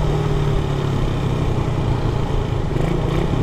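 A carbureted Raider 150 motorcycle engine runs steadily in a close, continuous drone with an even, unchanging throttle; the bike has a faulty RPM gauge and a dead speedometer display.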